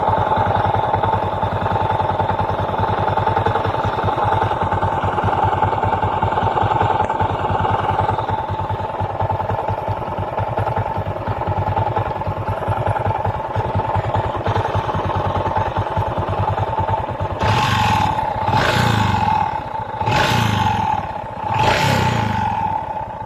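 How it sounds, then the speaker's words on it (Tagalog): A Honda XRM 125 motorcycle engine with a worn bearing idles close by with a rough, clattering knock, then gives several sharp revs near the end. "parinig ko muna sa inyo ang tunog ng kanyang makina"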